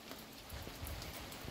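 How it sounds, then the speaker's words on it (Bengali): Heavy rain falls in a storm in the Sundarbans, a steady, even hiss of drops on surfaces that holds at a constant low level. "এত জোরে দেখো এত বৃষ্টি"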